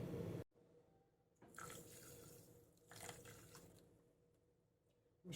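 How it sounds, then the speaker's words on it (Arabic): A quarter cup of water is poured onto melting caramel sugar, giving two bursts of splashing, sizzling liquid sound at close range, separated by quiet pauses, with no talking. "عليها ربع كوباية مية"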